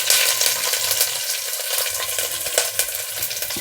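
Ginger slivers, cumin seeds and dried red chillies frying in ghee for a vegetable khichdi. The crackling sizzle is loud, close and continuous, with occasional sharper pops.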